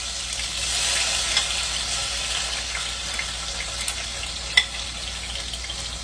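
Food going into a pot of hot oil just taken off a gas burner, giving a steady bright sizzle with a few small pops and one sharp crackle near the end, close and fairly loud with no talk.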